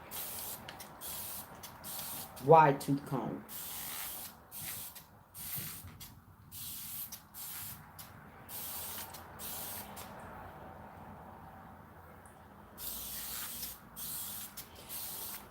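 Several quick hissing spritzes from a spray bottle onto thick, long, low-porosity hair while detangling come in a short cluster near the start, followed by quieter rustling and a few spoken words.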